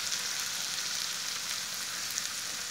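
Turmeric, red chilli and coriander powders fry in a masala base for chana paneer, producing a constant, close, hissing sizzle with small crackles and no pauses.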